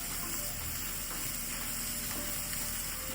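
Onions, garam masala and garlic fry in a pan for a homemade dosa filling, a close, continuous sizzle with faint stirring scrapes and no talking.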